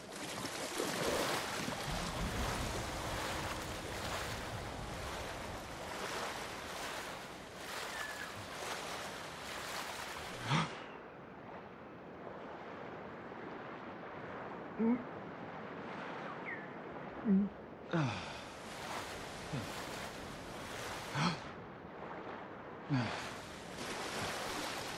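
Swimming through water in the Ghost of Tsushima video game, with a dense wash of waves and surf that drops away midway, then a few soft splashing strokes before the water roar returns.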